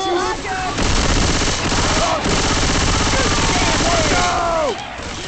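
Rapid video-game gunfire aimed at a jockey, dense bursts of shots filling the scene loudly and almost continuously, with brief pauses and voices talking over the shooting.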